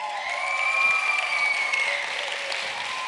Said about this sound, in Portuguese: Palmas para o Lázaro.